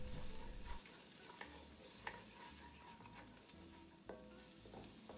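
Bell peppers and jalapenos saute in a pan, giving a faint, steady sizzle broken up by occasional soft scrapes and taps of stirring.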